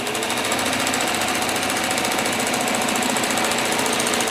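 A sewing machine stitches a straight seam down the center of quilt blocks, a fast, even mechanical rattle of the needle running continuously and close, loud and steady without pauses or voices.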